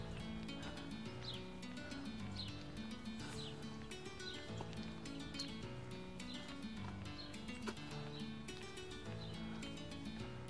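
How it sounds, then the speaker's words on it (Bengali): Many birds chirp together in a leafless residential neighborhood in New York, with repeated high tweets at a moderate distance over a steady outdoor background and no talking. "পাখির আওয়াজ শুনতে পাচ্ছি,"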